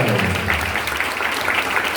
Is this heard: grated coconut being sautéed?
no